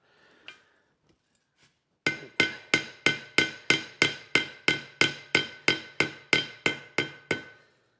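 A blacksmith forges a hinge button while truing a hinge strap, landing a steady run of about fourteen ringing, metallic hammer blows. They start after a few faint clicks and are evenly spaced, close and loud.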